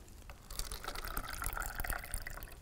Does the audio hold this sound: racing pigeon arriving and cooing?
no